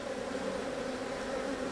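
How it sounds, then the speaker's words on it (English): Honey bees carrying pollen swarm around a backyard hive, making a steady, dense buzzing drone that fills the air close by, with no voices over it. "Lots of little bees with pollen on their legs."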